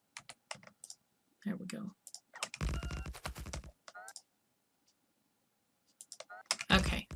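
Keyboard keys and mouse buttons clatter in quick bursts while building in the game Factorio, close and crisp, with short pauses and someone talking between and over the clicks.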